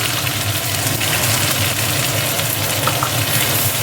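Onion, ginger and garlic paste frying in a pan, a loud, steady sizzle with bubbling crackle close up, continuous and without speech.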